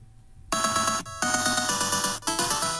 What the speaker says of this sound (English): I got the Contra ringtone